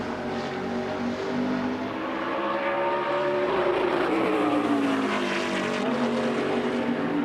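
A NASCAR race car running a qualifying lap at Bristol, its loud engine note rising and falling with shifting pitch as the throttle opens back up, continuous and close, with no talking.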